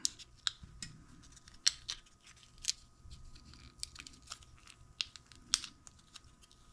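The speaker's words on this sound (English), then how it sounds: "Best to take some scissors to just open it up." Scissors snipping through a plastic pack of FOBO 2 tire pressure sensor batteries, a string of crisp close cuts and clicks at an uneven pace with light crinkling between them.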